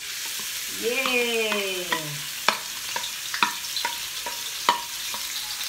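Ground garlic and shallots sizzle in hot oil in a pan for Manado woku chicken, a steady close frying hiss broken by sharp spatula scrapes and stirring clacks, with a short cheer from a voice near the start.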